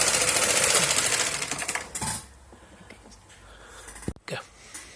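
Knitting machine carriage pushed to the right across the ribber, a loud sustained mechanical rattling whir that stops after about two seconds, followed by softer clacks and handling noises.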